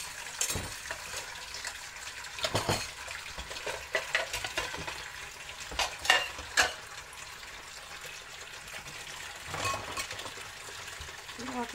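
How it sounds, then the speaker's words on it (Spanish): Greasy hot cake dishes washed with Ninu dish soap, close splashing and sloshing water with scrubbing and clinks of dishware, faint speech in the background. "Así vamos a lavar estos de grasa. Son de hot cakes"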